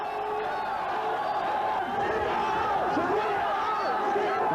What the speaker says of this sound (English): A huge mass of enthusiastic protesters rushed Mr. Hawke